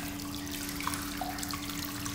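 Water runs steadily from a faucet at a hot spring bath in Nasu, Japan, a continuous close splashing hiss with a constant hum underneath and no talk.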